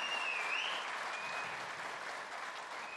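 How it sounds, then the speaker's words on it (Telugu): A large audience at a book launch event in Vijayawada claps loudly and continuously, a dense, even wash of applause with a faint tonal whine running through it. "గట్టిగా చప్పట్లు కూడా అందరూ అభినందించాల్సిందిగా కోరుతున్నాం."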